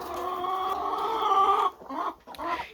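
A young rooster crows in a long, strained, wavering call close by, then breaks off into a couple of short rough squawks at the end.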